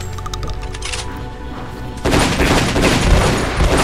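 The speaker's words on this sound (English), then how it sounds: "It's a shotgun!" Shotgun fire in a video game: after a quieter stretch of game sound, a dense burst of loud, close blasts erupts and keeps going to the end.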